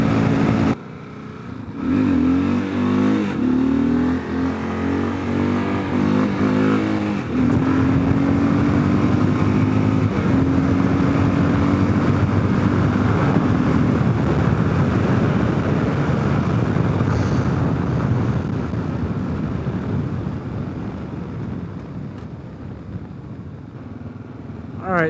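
A 2022 Kawasaki KLR650 adventure motorcycle cruising at about 94 mph on the highway, fitted with its stock front sprocket, giving a steady loud engine drone with heavy wind roar that holds for the whole stretch.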